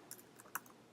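Keys on a computer keyboard tap quickly and lightly, a few close crisp clicks in a short burst against quiet room tone, with no voices.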